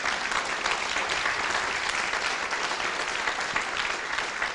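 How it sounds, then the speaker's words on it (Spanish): A church congregation applauds steadily throughout, dense sustained clapping from a large crowd in a hall with no pauses. "Denle un aplauso para que la gente vea que sí están acá"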